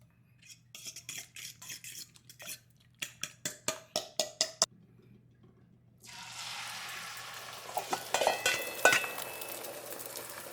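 Eggs and green onions fry in a couple tablespoons of oil for a shrimp and tomato dish. Rhythmic utensil clinks come first, then a steady close sizzle takes over with a few scrapes.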